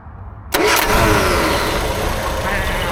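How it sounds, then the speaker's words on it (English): A Triumph Herald Estate's small engine turns over briefly and catches, then settles into a loud, steady idle close by. "For a farty little car, it does start alright"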